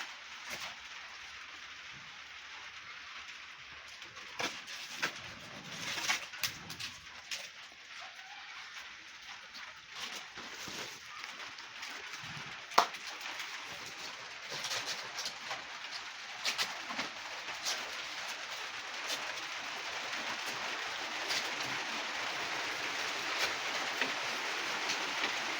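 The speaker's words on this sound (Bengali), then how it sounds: "বাইরে কিন্তু বৃষ্টি হচ্ছে।" Steady rain falls outside on a rainy day near a goat shelter, a continuous broadband hiss with occasional louder drips, while pigeons coo faintly in the background.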